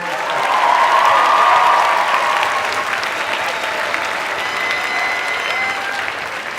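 A large audience at a high school senior debate breaks into loud, sustained applause with faint cheering mixed in. The clapping swells early, then holds steady and full to the end.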